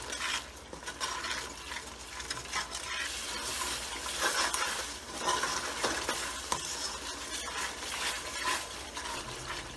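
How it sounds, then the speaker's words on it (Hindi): Onion paste and spices for beef paya stirring and frying in a pan with a little oil, a continuous close sizzle broken by repeated scraping strokes of a spoon, and no voices. "अब ये मसाले भी डाल देंगे इसमें और इसको भूनेंगे।"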